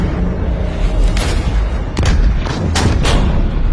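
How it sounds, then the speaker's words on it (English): Heavy artillery fire in a battle, several deep booming blasts landing in irregular succession over a constant low rumble, loud and close with no voices. "The artillery opened,"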